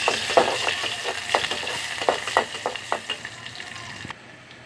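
Onions sizzle as they fry in oil in a pan, with a steady hiss and a run of stirring scrapes and clinks, close up, before the sizzle drops away near the end.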